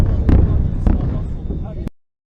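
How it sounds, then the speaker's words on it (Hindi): Heavy gunfire and bombing strike Gaza at night, with loud booming blasts and crackling bursts close together over a rumbling background before everything cuts to silence. "इस बीच गाजा पर भारी गोलीबारी जारी"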